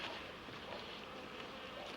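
A dense, continuous buzzing of many honeybees leaving a hive, steady and fairly close, with no voices.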